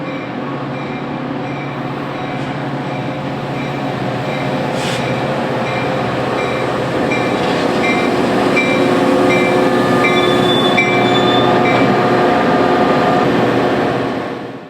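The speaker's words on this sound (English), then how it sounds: "Local 1277 arrives at Stone Avenue behind Metro 185" A Metra commuter train hauled by an EMD F40PH locomotive, Local 1277, arrives at Stone Avenue on the BNSF line as a loud, steady, close rumble with a droning engine tone and metallic wheel noise that builds and holds throughout.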